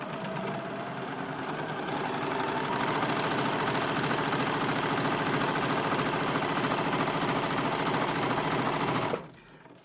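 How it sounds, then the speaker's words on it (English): A sewing machine stitching a curved seam on a fabric hood, a steady fast mechanical whirring and rattling run held for about nine seconds before stopping abruptly. "we are going to sew the curved line"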